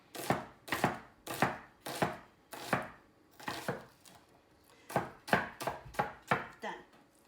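A knife chopping onion on a cutting board in steady, evenly spaced strokes, about a dozen crisp close thuds with a brief pause midway, no talking.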